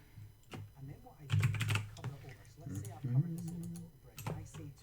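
Computer keyboard keys click in quick bursts of typing while a sign's text is entered in Minecraft: Education Edition, soft and close, with someone talking over the taps.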